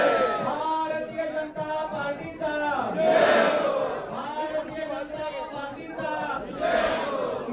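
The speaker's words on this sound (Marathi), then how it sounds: "गर्दी इतकी आहे की आवरता येणार नाही अशी परिस्थिती झालेली आहे" A huge, packed crowd of party workers roars and chants inside a crammed political office during a BJP joining event, loud dense shouting swelling in waves with overlapping voices throughout.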